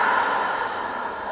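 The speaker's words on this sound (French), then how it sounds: "j'expire." A long, steady exhale during a conscious-breathing exercise, a close breathy rush of air that holds fairly even and fades slightly toward the end, with no talk over it.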